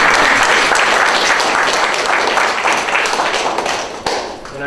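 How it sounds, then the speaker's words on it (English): An audience gives loud, sustained applause, a thick roar of many hands clapping close by that slowly tapers, with a sharp knock near the end. "Give them another round of applause."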